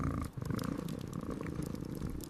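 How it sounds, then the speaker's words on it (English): A cat purrs steadily and close by, a continuous low rumbling vibration with no talk over it. "Oh, look, you're purring."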